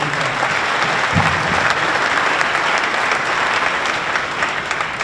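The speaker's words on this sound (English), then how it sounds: "How about one more round of applause for our" A full audience gives a round of applause, dense steady clapping sustained at an even, fairly loud level throughout, with no voices over it.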